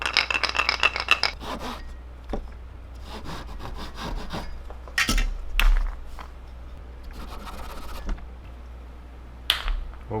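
Close-up sawing through wood in uneven bursts, strokes starting and stopping with short pauses and light scraping between them.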